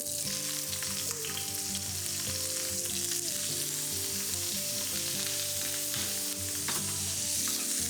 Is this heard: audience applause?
no